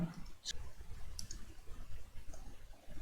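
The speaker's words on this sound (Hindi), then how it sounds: "मैं यहाँ पे कैलकुलेटर पे लिखता हूँ" Button presses on a handheld calculator, a couple of sharp, close clicks over a quiet low room hum, with no talking.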